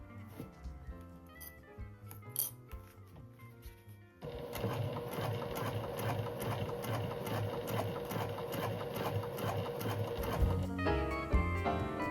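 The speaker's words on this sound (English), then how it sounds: "I'm taking an extra stitch as I go over each pocket panel" Sewing machine stitching a cork bifold wallet with extra stitches over each pocket panel, a steady rapid mechanical whirr running continuously for most of the stretch after a quieter start of handling noises.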